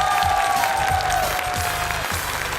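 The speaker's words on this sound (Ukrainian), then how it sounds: "Ваші оплески" Steady applause from a TV show studio audience running on generator power, a continuous dense patter of clapping with a tonal hum beneath it.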